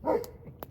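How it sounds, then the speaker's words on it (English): A dog barks at a campsite during truck camping at Land Between the Lakes: a single close, loud bark followed by a couple of fainter yips. "What's she barking at?"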